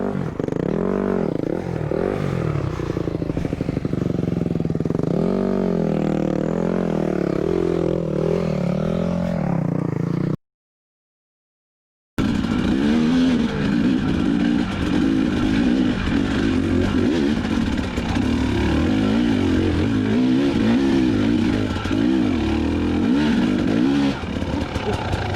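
An off-road enduro motorcycle, a KTM or Yamaha, revving hard and pulling away on a dirt trail, its engine droning loud and close with rising and falling throttle, cut by a short silent gap before the engine roars on steadily.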